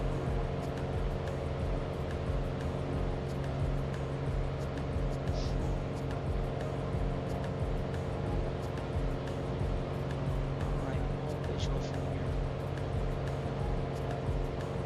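Steady droning engine of a Piper Arrow light aircraft in flight on approach to Manteo, North Carolina, a constant even hum heard from inside the cabin with no change in pitch or level.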